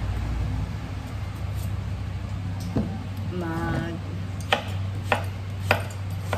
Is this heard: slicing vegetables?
yes